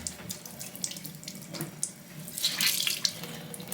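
Tap water runs steadily into a sink to wet a makeup brush, a soft close splashing stream with light dripping and no talk.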